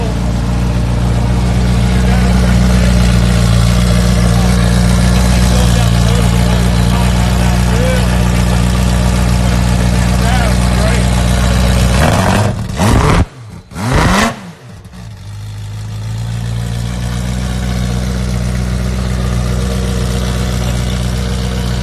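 Ferrari F40 engine idling with a loud, steady low drone, dropping out briefly in a couple of sharp blips and dips before settling back into a strong idle; close and loud with no talking.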